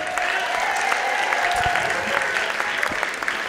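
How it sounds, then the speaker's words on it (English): Sustained crowd applause at a teen poetry slam in a library, a thick continuous roar of clapping with a faint tone and scattered crowd noise underneath. "And keep that applause going for our second poem of the evening"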